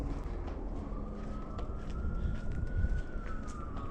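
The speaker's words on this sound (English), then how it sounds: "You can hear an ambulance." An ambulance siren on a city street in Philadelphia's Strawberry Mansion neighborhood, a faint, distant wail that slowly rises and falls over a steady outdoor rumble of traffic.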